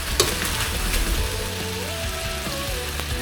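Chicken adobo with calamansi and potatoes sizzles and fries in a pan while a utensil stirs it, giving steady loud frying noise with occasional scraping clinks close by.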